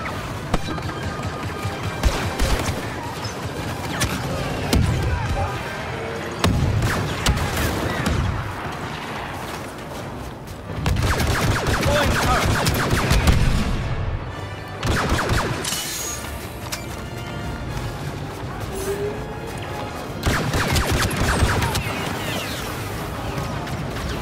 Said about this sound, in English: Deploying grenade!